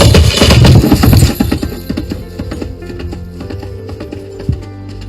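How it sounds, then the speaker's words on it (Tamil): Layered horse hoof sound effect built for the film Ponniyin Selvan: a loud flurry of clip-clopping hooves up front, easing into sparser, quieter taps and thuds as the horse slows. "பட் இந்த குதிரை சவுண்ட்ல என்னென்ன லேயர்ஸ் இருக்குன்னு ஒரு உதாரணத்தை காட்டுறேன்."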